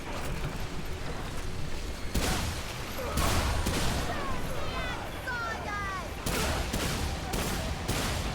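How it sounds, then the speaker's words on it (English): Repeated shotgun blasts in the Remnant II shooter game, several loud bursts spaced a second or so apart over constant combat noise and chirpy effects, with a player talking over the action. "Shotgun is pretty effective."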